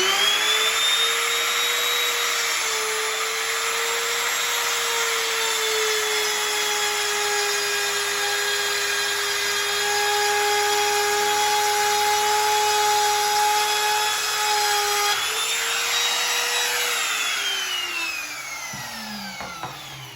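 A Ryobi RTR400 trim router runs steadily at high speed while cutting wood, a loud, close, continuous whine with slight pitch shifts under load, then winds down near the end.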